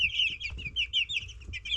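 Backyard chicks and hens cluck and trill close by in quick, repeated high calls that rise and fall, with soft rustling and movement underneath.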